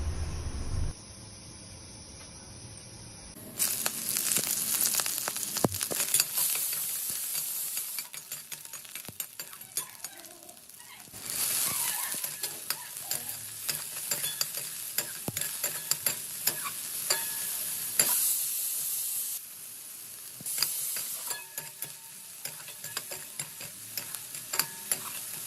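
Chopped onion, coriander and green chilli hit hot oil in a pan for a tempering, with a loud crackling sizzle, quieter stretches and the scrape of stirring, close by with no talk.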